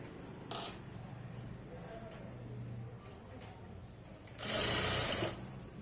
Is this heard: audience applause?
no